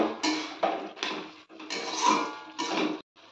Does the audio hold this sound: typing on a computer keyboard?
no